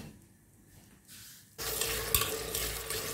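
Onion frying in olive oil for a Tunisian couscous with dried preserved meat, a quiet start that bursts into loud, steady sizzling partway through as the onion hits the hot oil, with stirring scrapes.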